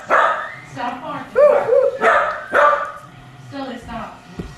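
Several loud, close dog barks come in an uneven series, some ending in a higher yelp.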